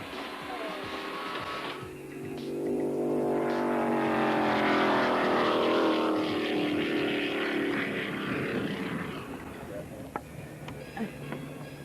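A powerful racing boat engine roars close by, its pitch climbing and holding steady before easing off toward the end.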